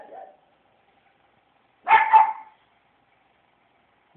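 A pug gives a single sharp, close bark in an otherwise quiet room, with the start of another bark cut off at the very end and a brief faint voice at the beginning.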